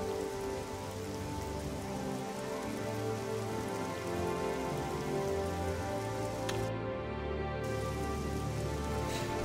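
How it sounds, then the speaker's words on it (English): Rain falls steadily in The Elder Scrolls IV: Oblivion on Xbox Series X, a constant patter of drops on surfaces with a soft hum of ambient game sound underneath and no voices. "Hopefully it'll stop raining then as well."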